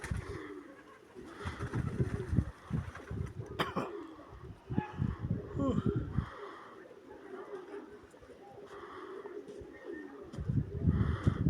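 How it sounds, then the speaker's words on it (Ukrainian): Soft, low cooing of a rock dove repeats in several bouts, fairly close, with faint bird chirps and quiet background noise between calls. "Ще запишемо цю сизу голубку"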